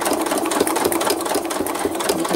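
A sewing machine stitches thread art at a rapid, steady pace, its close mechanical hum and rhythmic needle ticking filling the short stretch on its own.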